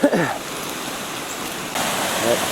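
Creek water pouring over the top of a dam during Hurricane Helene flooding, a steady broadband rush that carries on throughout, with a brief voice at the start and the roar growing brighter and louder partway through.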